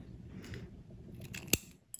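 Scissors trim cotton wick during an RDTA vape coil build, giving one sharp, close snip followed by a fainter second cut against quiet handling noise.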